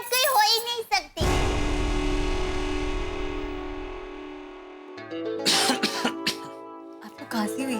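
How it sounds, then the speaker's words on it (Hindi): In a Taarak Mehta Ka Ooltah Chashmah comedy scene, a person coughs in a few harsh bursts, loud and close, among dramatic music and a sound effect. "आपको खांसी हुई है?"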